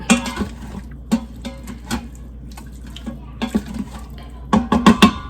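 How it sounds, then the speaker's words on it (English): Dishes washed at a kitchen sink while cooking gumbo, running tap water with repeated clinks and knocks of plates and pots, close and fairly loud, no talk. "now I'm gonna wash up some dishes while I do that"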